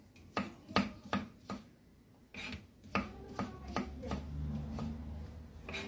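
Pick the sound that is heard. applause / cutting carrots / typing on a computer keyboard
cutting carrots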